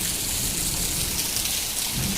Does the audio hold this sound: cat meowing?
no